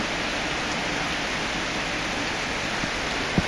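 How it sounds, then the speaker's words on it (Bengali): Heavy rain falls on a garden in Satkhira, a constant, broad roaring hiss heard close and loud, with a single sharp drop or tap near the end. "প্রচুর বৃষ্টি।"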